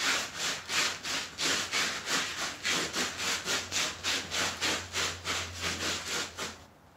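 Absorbent granules rubbed into an oily garage floor with a foot make rhythmic scraping strokes, about three per second, loud and close, repeating steadily with no talking.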